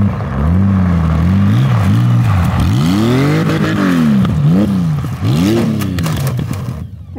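Honda Goldwing motorcycle on studded tires drifting in a circle on ice, its engine droning and rising and falling in pitch as revs swing up and down, loud and continuous with scraping underneath, cutting off at the end.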